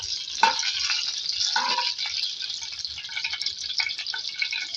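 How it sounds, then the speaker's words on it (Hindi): Potatoes fry in a pan for tandoori aloo, giving a bright, continuous sizzle with a few louder crackling spurts and light stirring scrapes, close and unaccompanied by speech. "तो 1 मिनट फ्राई करेंगे।"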